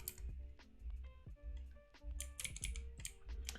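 Fast typing on a computer keyboard up close, a dense run of sharp clicks and key taps in irregular bursts with some louder clacks, no voices.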